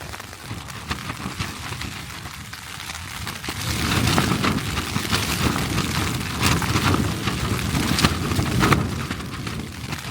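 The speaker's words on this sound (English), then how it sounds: "Hasn't stopped raining since about 4." Steady rain drumming on a tarp shelter overnight, a dense continuous patter that swells louder partway through and stays heavy, close and unbroken with no voices.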